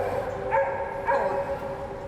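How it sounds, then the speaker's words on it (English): A trapped adult dog barks from beneath a concrete dock, its calls muffled and set back from the listener, two short bursts rising over a steady background hum. "Sounds like an adult dog, not a puppy."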